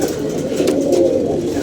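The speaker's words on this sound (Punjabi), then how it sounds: "ਪਾਣੀ ਪਾਓ ਕਬੂਤਰ ਬੇਤਾਬ ਹੋਏ ਨੇ ਪੀਣ ਵਾਸਤੇ ਪਾਣੀ" Pigeons coo close by, eager for water, in a short run of soft low cooing calls over a steady background with no talking.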